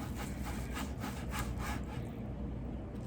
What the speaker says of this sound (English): I just started slicing off on this flat iron steak, and I'm cutting it really thin, making thin slices